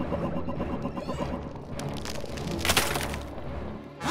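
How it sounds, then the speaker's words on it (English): Ice cracks and crunches under a rumbling background in an Octonauts cartoon Arctic scene, as an ice wall breaks, with a sharp breaking burst in the middle before the grinding noise settles. "Something's breaking through the ice wall."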